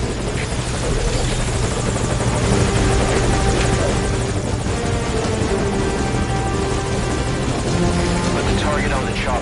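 A helicopter from the video game Metal Gear Solid V drones steadily with a dense, loud rotor roar throughout, a voice briefly heard over it.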